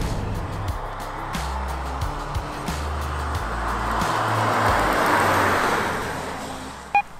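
A 2022 Volkswagen Taos drives through the corners of the Malibu hills. Its engine hum rises and falls steadily over road and wind noise, with no one speaking.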